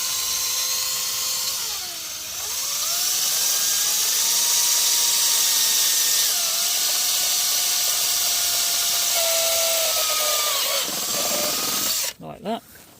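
A cordless power drill in drill mode, fitted with a wood drill bit, bores through a panel while fitting cruise control to a Fiat Panda. Its steady whine rises and shifts in pitch for about ten seconds before stopping abruptly.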